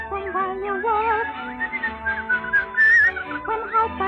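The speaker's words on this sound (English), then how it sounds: "So whistle while you work." Someone whistles a melody from Snow White and the Seven Dwarfs, a clear, bright, wavering tune with short phrases and quick ornaments, alone without talk.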